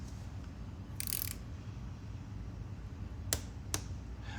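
An ETOOLAB torque wrench set to 100 pound-inches, tightening a loosened bolt on a clutch assembly, gives two soft, sharp clicks close together, with a brief brighter rattle earlier over a low background hum.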